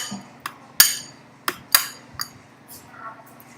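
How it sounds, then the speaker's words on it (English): Boiled eggs being smashed up in a kitchen for deviled eggs, a handful of sharp separate knocks and clinks of utensil against a dish, spaced irregularly and close, with no talk. "Smash it up a little bit, so getting the eggs, getting all the eggs."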